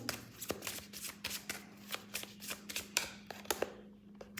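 Tarot cards being shuffled by hand for a reading, a steady run of soft riffling flicks and slaps that carries on for several seconds alone with a low background hum.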